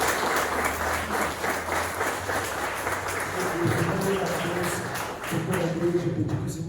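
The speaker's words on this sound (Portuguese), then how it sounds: "Aplauda ao Senhor com alegria." A church congregation applauds during a healing and deliverance service, steady dense clapping throughout with voices and a low sustained tone underneath, growing slightly busier toward the end.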